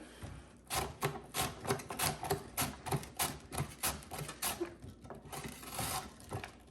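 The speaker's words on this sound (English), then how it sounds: "I'll slice those up, and I'll grab that guard real quick, and we'll finish the ends of those onions up" A large red onion being sliced on a mandoline-style slicer with a hand guard, giving a steady run of rasping, rhythmic strokes that sound close and fairly loud, with no talk.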